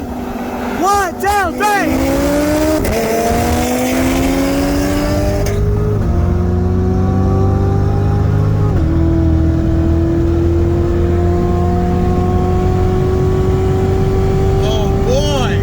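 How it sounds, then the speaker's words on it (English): A 2017 Corvette C7 Z06 with an intake modification accelerates hard in a 50 mph roll race against a 2020 Audi RS3. The loud, close engine roar climbs steadily in pitch through gear changes, with brief dips at each shift, and it drones on continuously. "the first roll we're going to be doing is from 50 miles an hour"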